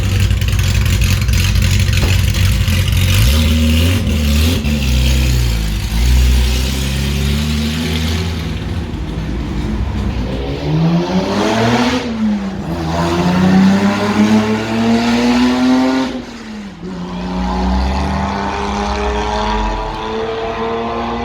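Vintage race cars at the Oldtimer Grand Prix roar past, loud and close, with engines revving and pitch sweeping up and down as cars accelerate and pass by one after another.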